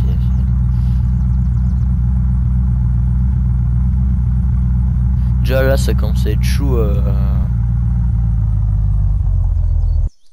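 Car engine in the survival game Unturned, a steady low rumble running throughout, with a brief burst of other game sounds midway and someone talking over it.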